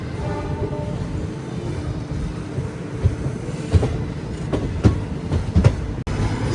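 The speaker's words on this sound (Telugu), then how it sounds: "విజయవాడ స్టేషన్ లోపలికి అలా వెళ్తున్నాం" The Narasapur–Hubli Amaravathi Express rolls into Vijayawada station with a steady rumble. Rhythmic clickety-clack wheel beats grow sharper over the rail joints toward the end.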